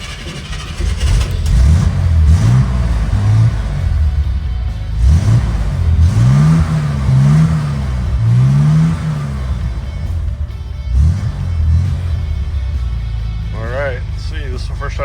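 A 1964 Corvair Monza 900 pulls away on its first test drive, its mid-pitched engine revving and rising in waves close by, with someone talking over it throughout.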